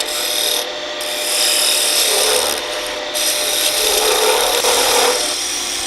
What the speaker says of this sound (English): You can use the roughing gouge to shape the entire body